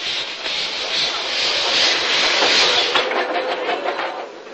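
Polar Bear, a narrow gauge steam locomotive, climbs a grade alone, giving a steady, loud rushing roar that keeps going throughout and fades a little at the end.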